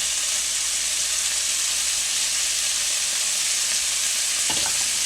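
Eggs stirred in melted butter in a saucepan, a steady bright sizzle running throughout with a brief scrape of the utensil near the end, close and alone.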